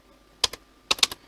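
A computer keyboard tapped in two quick bursts, a couple of keystrokes then three or four more, close and crisp in a quiet room while a file name is typed into a terminal.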